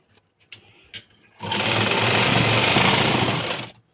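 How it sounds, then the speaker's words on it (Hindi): Sewing machine stitching the gathered panels of a dress, running in one loud continuous burst of about two seconds after a few faint clicks and taps of handling. "तो हम स्टिचिंग करेंगे अभी इनकी।"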